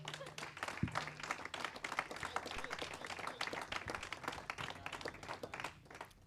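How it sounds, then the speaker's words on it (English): An audience applauds in a conference hall at a kayak cross summit, steady dense clapping for about six seconds at a fairly soft, distant level with faint crowd murmur underneath. "firstly, a round of applause for that, guys, no?"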